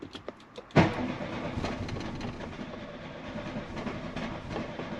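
A VW Mk2 Golf 16V that won't start when cold gives a few faint clicks, then a sudden loud burst as the engine cranks, followed by a continuous rough churning that holds steady for several seconds.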